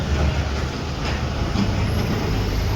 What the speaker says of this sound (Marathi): त्या अग्निशमन दलाच्या गाड्या पण आहेत सोबत